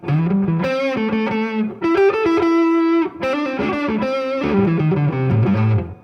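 Heavily distorted electric guitar through a Fender Tone Master Deluxe Reverb amp plays chords and sustained notes, loud and continuous with a thick, fuzzy tone and brief pauses between phrases.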